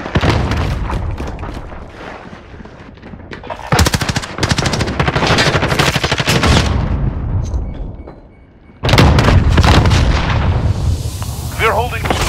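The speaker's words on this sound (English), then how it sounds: "Throwing grenade!" Dense machine-gun fire and heavy booms from a grenade in Call of Duty: Modern Warfare pound loudly in sustained bursts, with a brief lull before another intense volley of gunfire and explosions.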